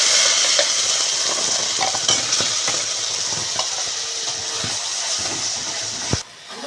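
Carrots frying in hot ghee in a wok, giving a loud continuous sizzle and hiss with faint stirring scrapes throughout and a brief dip near the end.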